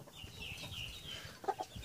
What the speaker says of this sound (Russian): Смотри, как курица стоит.